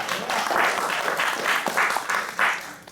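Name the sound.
audience clapping hands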